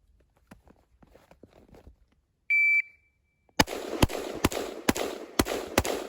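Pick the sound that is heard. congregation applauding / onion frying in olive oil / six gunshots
six gunshots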